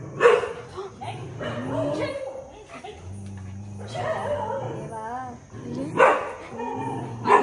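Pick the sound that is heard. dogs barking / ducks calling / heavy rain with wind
dogs barking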